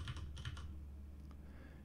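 Keys tapped on a computer keyboard used as a game controller for Tekken on a PS5, a few quick clustered clicks up front followed by sparser, fainter taps over a low steady hum.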